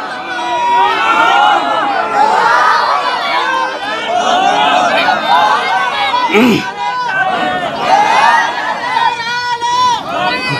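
A large crowd at an outdoor Bengali Islamic sermon gathering in Rangpur roars and shouts in unison, a loud, dense wall of many voices that carries on steadily throughout.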